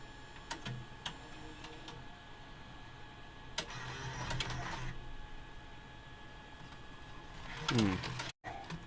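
A DVCPRO tape deck ejecting a cassette, with a brief mechanical whirring burst midway and a rising, rattling motor sweep near the end as the tape is pushed out, over a quiet steady background hum.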